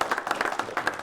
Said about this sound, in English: let's give a round of applause here for Mitch and his crew.